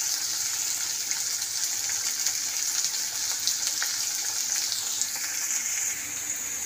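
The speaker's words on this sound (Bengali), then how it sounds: "এই যে ভাজা ভাজা হয়ে গেছে পেঁয়াজটা" Chopped onions fry in oil in a pan for an egg dish, a steady, close, bright sizzle and crackle that continues without a break and with no voices.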